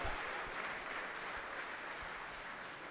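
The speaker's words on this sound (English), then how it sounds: "Claps are good. We allow claps." An audience claps steadily at a Bitcoin conference fireside chat in Amsterdam, a dense, even wash of applause that fades slightly toward the end.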